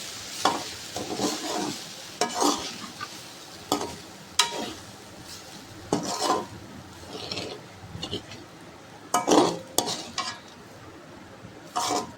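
Fried rice for kids is stirred in a hot pan with a spatula, giving repeated scraping strokes over a steady sizzle and occasional clinks of utensil on metal, close up with no talking.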